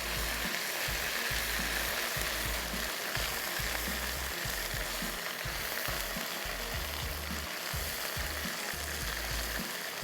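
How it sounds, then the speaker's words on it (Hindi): Beef masala for biryani being fried in a pot, a steady low sizzle with soft rhythmic scraping and clanking of a spoon throughout. "खूब अच्छे से करेंगे भुनाई।"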